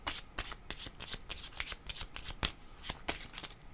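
Tarot cards being shuffled by hand, a rapid series of crisp riffling flicks and snaps at close range, quiet and steady with no talking over them.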